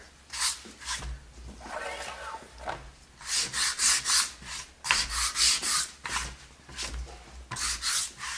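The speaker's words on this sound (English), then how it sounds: "anywhere where you have something that's really just not blending, give it a couple scratches." Faux antique wood planks painted for a DIY project are scratched in short, repeated rubbing strokes, close and fairly quiet, coming in bursts separated by brief pauses.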